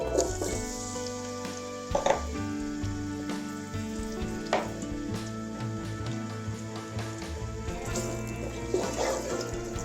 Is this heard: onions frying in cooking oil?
yes